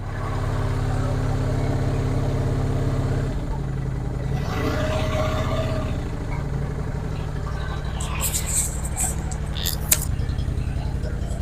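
A motorcycle engine, choke pulled, cranks over strongly on a fresh battery and runs cold-blooded after sitting about three weeks, a steady low idle filling the whole stretch with some clattering and tapping near the end.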